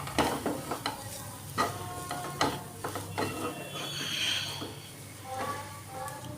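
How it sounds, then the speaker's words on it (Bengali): Spices frying in a pan for dal puri filling, with kasuri methi, stirred steadily, giving a continuous close sizzle broken by repeated scraping strokes of a spoon against the pan. "আমি এটা ভালো করে ভেজে নেব"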